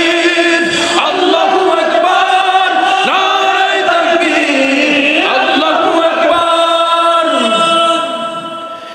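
A large crowd at an Islamic religious gathering (tafsir mahfil) chants the takbir Allahu Akbar in unison, loud and sustained with rising and falling chant lines and a reverberant, massed roar that fades at the end.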